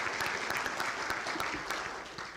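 An audience claps steadily at an economic development announcement, a fairly faint, even patter of many hands without speech.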